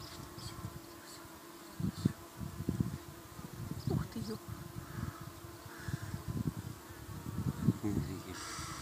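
Honeybees buzz around a hive close by, their hum rising and falling in short passes over a faint, steady background drone.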